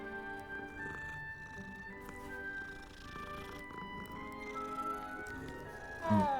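A pet cat in the video game Hogwarts Legacy gives soft purring and small vocal sounds beneath a layer of sustained game music, ending with a short louder meow-like call.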